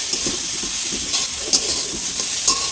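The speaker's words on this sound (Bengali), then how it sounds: "এটাকে একটু ভেজে লাল যতক্ষণ না লাল হবে আর খুবই লো ফ্লেমে এটাকে ভাজতে হবে" Mutton masala with cardamom and bay leaf frying on a very low flame for a kala bhuna curry, giving a steady soft sizzle with occasional stirring scrapes and small pops.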